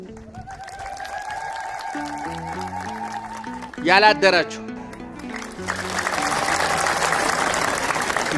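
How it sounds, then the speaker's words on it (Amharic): A church congregation breaks into loud clapping during a sermon, a short burst in the middle, then a sustained wash of applause after the preacher's speech and some sung or toned voices. "እስኪ ቤተክርስቲያን ማህሌት ያደራችሁ አጨብጭቡ እስኪ።"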